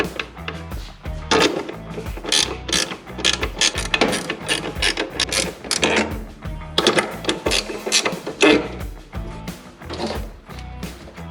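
Rapid, continuous mechanical clicking from a ratchet being cranked to tighten the battery mounting bracket on a 1966 Mustang, close and fairly loud, running in bursts with no talk.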